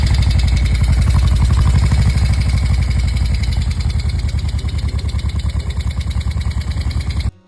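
A vintage 850T motorcycle with Harley-Davidson-style exhausts runs loud and close, a deep rhythmic idle thumping evenly before the throb eases slightly and cuts off abruptly at the end.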